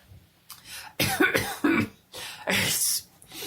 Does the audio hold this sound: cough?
yes